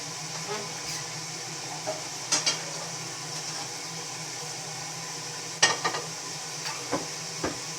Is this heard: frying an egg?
yes